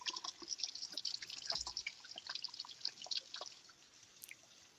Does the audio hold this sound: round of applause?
no